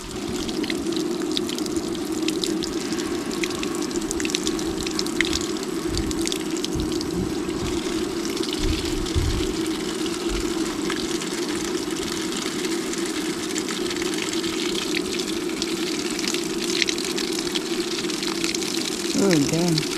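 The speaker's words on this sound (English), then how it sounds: "We're gonna see if we got some hot water." Hot water runs from a newly installed water heater in a steady, continuous rushing flow, with people talking over it throughout.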